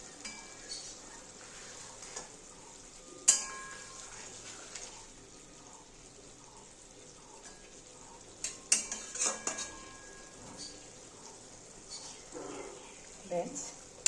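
Boroli fish frying in a pan gives a quiet, low sizzle, punctuated by sharp metallic clinks and scrapes of a spatula stirring against the pan at irregular moments.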